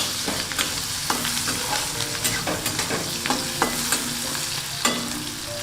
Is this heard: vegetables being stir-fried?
yes